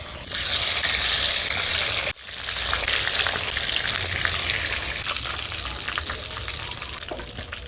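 Boiled potatoes sizzle and crackle steadily in hot oil for chicken biryani, a loud, close, continuous frying hiss with a brief break partway through and occasional stirring clinks.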